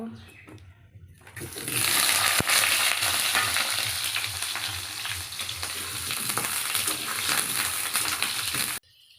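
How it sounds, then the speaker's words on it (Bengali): Potatoes hit hot oil with a sudden loud sizzle that keeps up as a steady crackling hiss, with a voice talking briefly underneath. "তেল দিয়ে দেব। তারপরে আলুটা ঢেলে দেব।"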